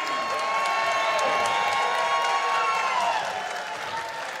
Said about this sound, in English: As you can hear, the crowd is definitely in favor of the Country Gentlemen.